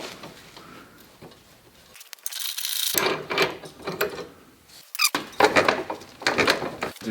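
Hand ratchet loosening a 14 mm bolt at the foot peg mount of a Honda Goldwing motorcycle, rapid clicking pawl strokes in several uneven bursts with squeaks, close and clear, with no talking.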